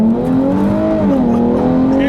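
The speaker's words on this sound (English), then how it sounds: "So let's see about this acceleration again" A 2013 Hyundai Genesis 3.8 Coupe on coilovers accelerates hard, its engine note climbing steadily in pitch as it revs, loud and close throughout.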